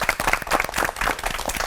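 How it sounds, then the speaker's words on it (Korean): A studio audience at a televised church lecture program applauds three pastors, brief close clapping lasting under two seconds. "세 분 목사님께 뜨거운 박수 부탁드리겠습니다"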